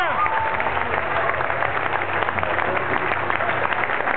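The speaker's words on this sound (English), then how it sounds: "Could you give her a round of applause" A concert crowd at the Cornerstone 2011 festival gives a sustained round of applause, with dense clapping and cheering that holds steady throughout and voices mixed in.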